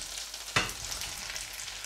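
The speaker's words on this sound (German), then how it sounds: "alles in die Pfanne geben. Und werden wir das alles schön anbraten" Mushrooms and liver sizzle and fry in hot butter in a pan, a soft steady crackle with one sharp clatter from stirring, close but fairly quiet, with no talking.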